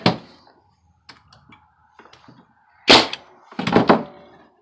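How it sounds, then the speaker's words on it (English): A nail gun drives nails into a 1x6 wooden shelf, giving sharp isolated thunks and bangs, loud and close, spaced irregularly with quiet gaps and a few clustered shots near the end. "So I'm going to take my trusty nail gun here, level this up."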